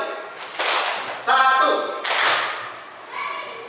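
Children in a classroom clap their hands in short bursts for a clapping game, loud and near, with voices mixed in around the claps.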